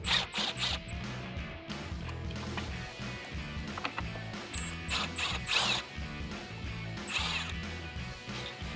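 T20 Torx screws being backed out of the lower mirror housing on a 2019-2023 RAM 1500, with a close, whirring power driver running in repeated short bursts and small plastic clicks between them.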